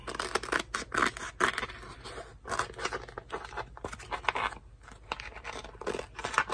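Scissors snip through heat transfer vinyl in a steady run of close, crisp cuts with short pauses between strokes, working around a shape for a candy heart pouch.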